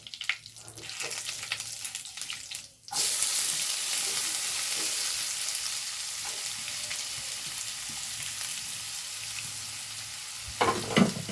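A medium-sized onion, finely chopped, hits a hot pan and breaks into a loud, steady sizzle after a quieter stretch of stirring, frying on evenly for several seconds with a brief scrape near the end.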